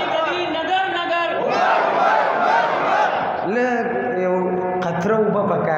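A crowd at a naat recitation gathering shouts a loud, unified chant in answer to a Naara-e-Takbeer call, massed voices rising and falling together with singing and a lead voice running through it.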